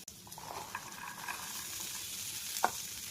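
Peas and tomatoes fry in a pan with a faint, steady sizzle, with occasional soft stirring clinks close by.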